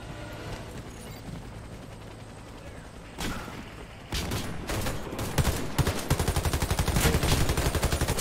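Gunfire in the shooter Warface on Nintendo Switch starts with mechanical clicks and single shots, then breaks into rapid, steady automatic bursts that grow louder toward the end.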